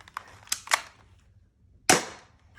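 An airsoft BB gun firing several sharp, close snapping shots: three quick pops in under a second, a pause, then one louder crack.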